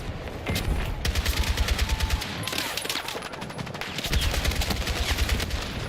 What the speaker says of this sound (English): Oh, they shooting, they shooting, they shooting.